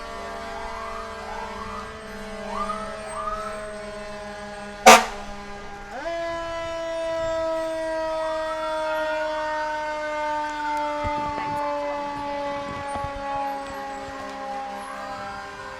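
Fire engines in a Memorial Day parade sound their sirens, with wailing tones rising and falling over several seconds, plus a sharp horn blast partway through, all fairly distant and steady in the open air.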